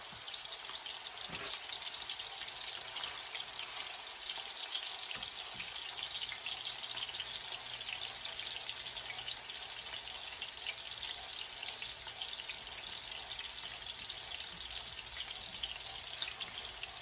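Wolf meat frying in hot oil over an outdoor cooking setup, a steady, faint hiss and crackle with occasional sharper pops, continuous and without talk.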